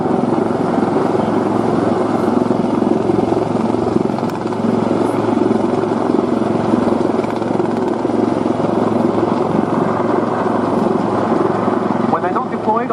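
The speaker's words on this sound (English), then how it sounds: "that's coming in from the right with the two Merlin Mark IIIs" Two Merlin Mk3 helicopters arrive carrying underslung assault Land Rovers at an air show, a loud, sustained rotor roar and engine drone filling the scene without letup.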